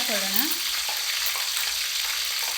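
Onions frying in a pan, a steady broadband sizzle holding level throughout with light stirring scrapes, close and fairly loud, with a brief tonal squeak near the start and no talking.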